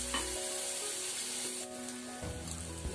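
Onion, curry leaves and crushed garlic and ginger frying in hot oil, a steady close sizzle with a sharp burst as ingredients hit the pan, and no talk.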